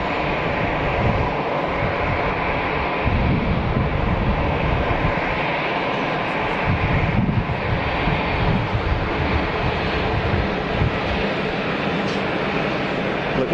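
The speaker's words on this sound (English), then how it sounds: "Tunis Air A320 taxiing down for departure as well" Tunis Air Airbus A320 taxiing for departure at Geneva Airport, a steady broadband jet engine rumble and whine held close and loud throughout, with a voice talking faintly over it.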